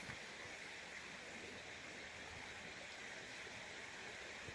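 A creek runs beside a tent in the Red River Gorge, making a steady, soft rushing and babbling wash that continues unbroken and fairly quiet, with no talk over it.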